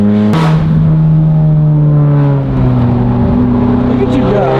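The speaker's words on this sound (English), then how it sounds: "Ben, I honestly don't know if I miss riding in this car or not. It's very loud." A very loud car pushes hard at speed, its engine droning steadily with shifting tones throughout, a sharp burst near the start, and people talking over it inside the cabin.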